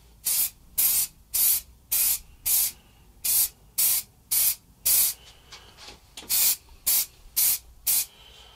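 An aerosol can sprays clear coat onto a guitar headstock in about fourteen short, evenly spaced bursts of sharp hiss separated by brief silences, close by and alone.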